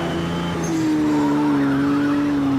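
In the Project Cars 2 racing game, a car's tyres squeal and skid under locked brakes on a cold track, a loud rising screech over the steady engine drone.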